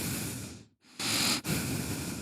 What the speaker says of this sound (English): She was just like breathing super loud.